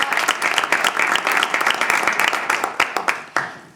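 An audience at a cultural evening in Montijo bursts into lively applause, with many hands clapping in a full, uneven wash that thins toward the end into a few louder individual claps.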